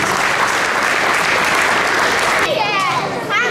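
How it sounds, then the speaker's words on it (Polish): A crowd applauds an award winner at a tenth-anniversary knights' club ceremony in Rydzyna Castle, loud continuous clapping until a voice begins speaking near the end. "Wielkie brawa, Filip Zacharski."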